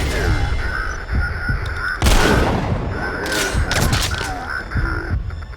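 Gunfire in Metal Gear Solid V, loud bursts of shots and heavy booming impacts close by, with a sustained blast of noise partway through and a dense battle din throughout, speech mixed in.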